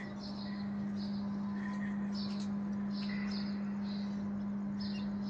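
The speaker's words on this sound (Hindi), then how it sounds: "पक्षी सारे बोल बोल कर बुला रहे हैं" Small birds chirp outdoors on a cloudy morning. Faint, repeated high tweets come in short bursts, with a steady low electrical hum underneath and no talking.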